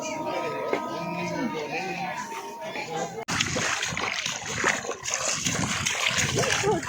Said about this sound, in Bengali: এটাও মেঘালয় পাহাড় থেকে ঝর্ণা নেমে আসতেছে।